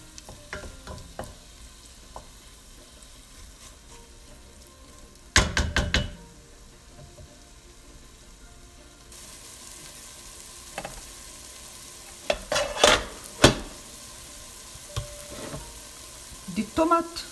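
Cumin and other spices frying in a pot for a Moroccan white bean loubia, a soft steady sizzle under intermittent clanks and scrapes of a spoon stirring against the pot.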